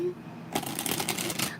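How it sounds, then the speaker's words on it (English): Tarot cards being shuffled close by, a sudden flurry of crisp riffling and flicking that starts halfway through and continues in quick bursts, with nothing else over it. "let me shuffle some more"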